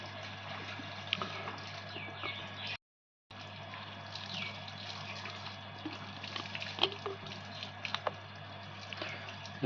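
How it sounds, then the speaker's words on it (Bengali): Liquid fungicide poured into water while mixing a crop spray, a quiet, steady trickle and splash with small drips, heard close against a constant low hum and broken by a brief silent gap. "এখন আমি ঢেলে নিচ্ছি।"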